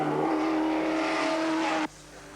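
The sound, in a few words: racing cars at Bathurst 1981, including a Camaro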